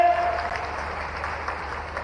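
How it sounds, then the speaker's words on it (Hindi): An audience at a tribal student encouragement and honour ceremony in Khandwa gives a round of applause, a moderate, even clapping wash over a low background hum. "ओलंपिक के लिए जोरदार ताली बजाओ।"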